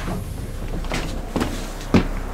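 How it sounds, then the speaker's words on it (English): A door bangs shut inside a building on a remote island, a sharp close thud near the end standing out over low room noise, with a softer knock a moment before. "we heard a door slam and then something move"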